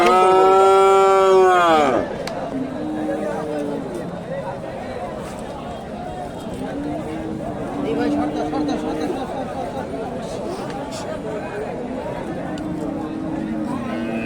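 A loud, drawn-out moo from Friesian cattle opens, followed by a bustling cattle market in Bogura, Bangladesh, with crowd chatter and further distant lowing from cattle.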